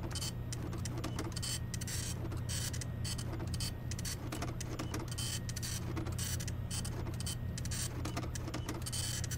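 Mechanical printer noise in the video game Freddy Fazbear's Pizzeria Simulator, a continuous rattling, clattering whir with dense rapid ticks over a low droning hum, loud and unbroken throughout.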